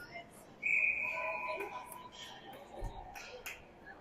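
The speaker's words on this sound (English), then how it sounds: "And there was a whistle." A referee's whistle sounds at a youth ice hockey game, one sharp sustained blast of about a second rising over arena ambience, followed by faint clicks and distant crowd and voices.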